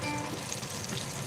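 Bean fritters shallow frying in oil for an Italian medieval recipe, giving a steady, close crackling sizzle with no speech.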